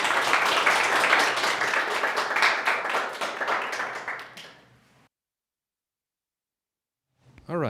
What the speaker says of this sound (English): Then another round of applause,